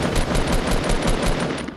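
Rapid, evenly spaced gunshots in a Fortnite Battle Royale firefight crack out loud and close in a steady stream of roughly a dozen reports, with no talking over them.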